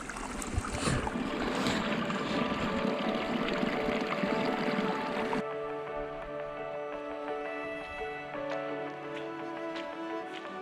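Stream water pours and gurgles into an empty container on a hill walk in the Ochil Hills, a steady close splashing that shifts to a softer, more tonal trickle as the vessel fills, with no talking.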